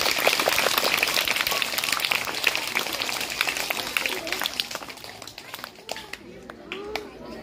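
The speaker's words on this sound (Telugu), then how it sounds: "మరి అంత ఒక్కసారి క్లాప్స్ కొట్టాలా మరి?" At a school magic show, a crowd of students claps in a busy, sustained burst mixed with chatter, loud at first and tapering into scattered claps and talking.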